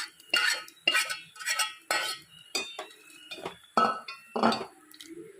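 Cooked dal being ladled into a pot of ash gourd sambar, heard as about eight distinct metallic scrapes and clinks of a spoon against the vessel, each followed by a short pause, close and clear with no speech.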